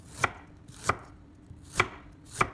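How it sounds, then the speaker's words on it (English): A knife slices a piece of ginger thinly on a cutting board, four crisp, separate chops spaced unevenly, close and clear with no voices. "Now, prepare a piece of ginger. Slice it thinly."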